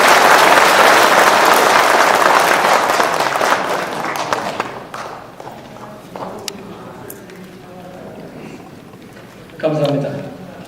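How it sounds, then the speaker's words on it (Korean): Audience applause fills a rally hall, a dense roar of clapping that fades over several seconds into scattered claps, with a voice over a loudspeaker at the end. "박수 부탁드리겠습니다."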